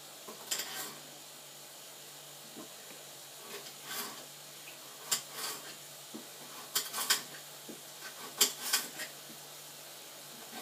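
Vegetable slices for a home-made curry land in a cooking pan as scattered clattering knocks and soft sizzling bursts, irregular and fairly quiet, over a faint steady hum.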